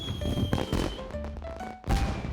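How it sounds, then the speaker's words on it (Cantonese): Fireworks burst in the night sky at the closing ceremony of an animal Olympics, with several crackling pops and thuds over a few seconds and a whistling tone running through. "天上嘅煙花幾靚。"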